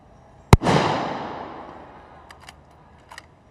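Single sniper rifle shot fired from a balcony about 300 meters from a tower: one sharp loud crack followed by a long rolling echo that fades over a couple of seconds, with faint distant pops afterward.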